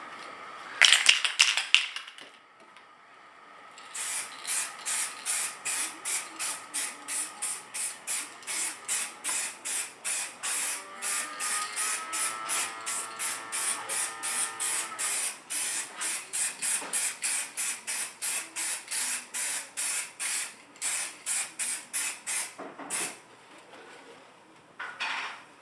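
Camo spray paint goes onto HVAC vents, with a pizza box shielding nearby surfaces. A can rattles briefly at first, then loud, evenly spaced hissing bursts repeat steadily for about twenty seconds at close range.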